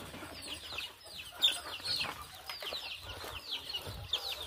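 Hens cluck in a coop fitted with egg-laying boxes, a scattering of overlapping soft clucks and short calls at moderate distance, fairly quiet and continuous throughout.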